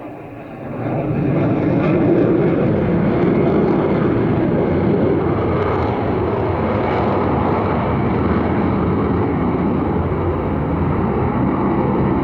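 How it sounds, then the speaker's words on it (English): An Avro Vulcan bomber climbs away at full power on four Olympus engines at an airshow, a loud sustained jet roar that swells in and holds steady with no voices. "she did her climb away with the full power on those 4 Olympus engines"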